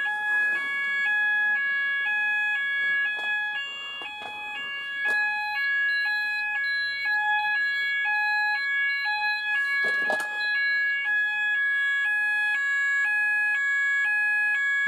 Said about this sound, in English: press resound alarms and then hear it go off